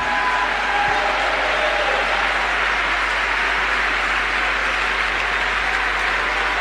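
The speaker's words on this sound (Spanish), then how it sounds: "Denle un aplauso." Church congregation applauding after a preacher's call for praise, a steady dense wash of clapping filling the whole stretch at fairly loud level, no voice standing out over it.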